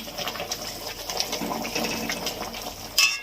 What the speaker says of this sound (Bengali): তেলাকচি ফুটছে, দেখেন